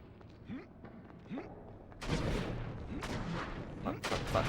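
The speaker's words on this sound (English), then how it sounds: "The explosion also hurts you." Explosions in the PS2 game Baldur's Gate: Dark Alliance, two faint thumps followed by a louder rumbling blast and further booms, heavy and close amid game noise.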